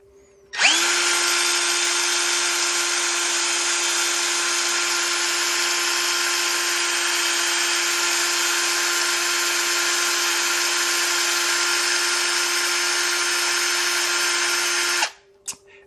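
A power drill bores steadily into a part from a junk VW engine, one unbroken high whine held for about fourteen seconds, close and loud, starting and stopping abruptly with no talk.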